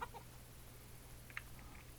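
Chickens cluck faintly in the Minecraft Dawncraft EX modpack, a few soft, brief clucks over a steady low background hum with no talking.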